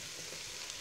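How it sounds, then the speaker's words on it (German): Colourful carrots, onions, garlic and ginger sizzle and fry in a pot for pumpkin soup, a steady close crackling hiss with faint stirring and no talk. "Einmal wieder umrühren."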